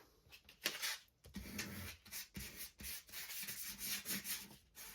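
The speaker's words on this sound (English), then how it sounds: "And because they're shiny, I'm going to take some sandpaper. Just give it a quick scuff." Sandpaper scuffs across shiny junk mail paper in quick, faint back-and-forth strokes, a close, uneven rhythmic rasp with short gaps between passes.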